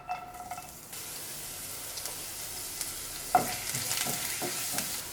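Finely chopped garlic sizzles steadily in hot vegetable oil in a pan for restaurant-style chicken fried rice, a continuous bright frying hiss with a few spatula scrapes and clicks partway through, close and fairly quiet, no voices.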